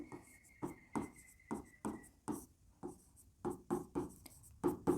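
Chalk or marker writing on a board during a chemistry lesson, a run of short scratchy strokes in quick bursts with brief pauses between them, close and fairly quiet, with no talking.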